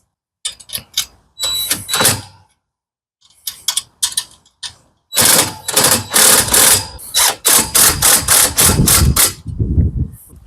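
A power tool runs in repeated bursts while assembling a Yaheetech 10ft portable basketball hoop, close and loud, with short revving pulses, a pause, then a longer run of rapid ratcheting whirs.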